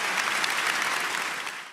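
A summit audience applauds: a dense, loud burst of clapping that holds steady and then fades out at the end of almost two seconds.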